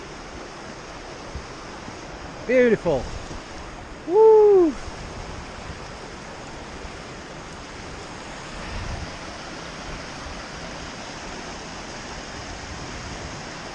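A river flowing under a small bridge outdoors makes a steady, even rushing wash of water throughout, with two short exclamations from a man partway through.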